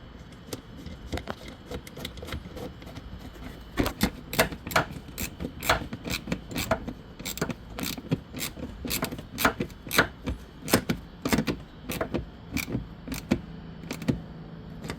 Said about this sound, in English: All right, now let's get the bolt and bolt it.